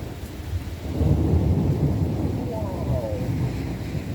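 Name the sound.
thunder from a big thunderstorm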